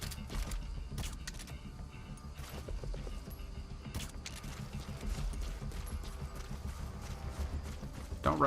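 Donkey hooves in the video game Metal Gear Solid V, a continuous, fairly loud patter of clip-clopping steps over a rumbling game soundscape with creaks and scattered clicks, no talking.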